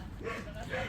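A small dog gives a few short, high yips and whimpers, close by and fairly quiet, with faint indoor background sound.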